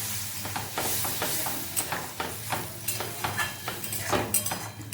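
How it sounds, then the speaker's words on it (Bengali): Small fish chorchori being stirred in a pan after a little water goes in, a busy sizzle broken by repeated scraping and clinking of a spoon against the metal, close and steady. "এবার আমি অল্প করে এখানে জল দিয়ে দেবো, সব কিছু ভালোভাবে মিশিয়ে নেব।"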